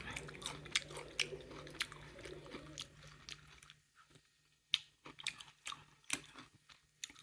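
Someone eating Isan blood laab up close, with wet chewing and crisp bites in quick irregular bursts, moderately loud, and a low hum underneath through the first half.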